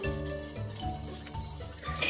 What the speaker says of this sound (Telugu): ఇదే నెయ్యిలో సేమియా వేస్తున్నాను.